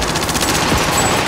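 Rapid bursts of automatic gunfire from a shooter video game, loud and continuous throughout with no talking over it.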